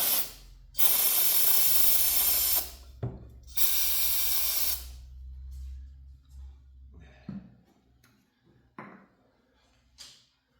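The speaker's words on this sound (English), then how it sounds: "I'm gonna have to spray some juice down in there." Lubricant sprays from an aerosol can in two loud hissing bursts, the first about two seconds long and the second shorter, followed by quieter clicks and small mechanical handling noises.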